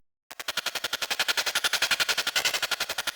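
A percussive sample run through a Thermal distortion plugin plays as a fast, gritty burst of repeated hits, like rapid gunfire. The hits are dense, crunchy and evenly spaced, with no voice over them.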